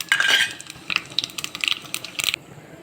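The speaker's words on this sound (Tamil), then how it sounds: "தக்காளி கடையிலுக்கு கடுகு, வெந்தயம், சீரகம் போட்டு பொரி விடணுங்க" Mustard, fenugreek and cumin seeds spluttering in hot oil, heard as quick close crackles and pops scattered in short bursts, with a busier patch at the start and sharper pops later.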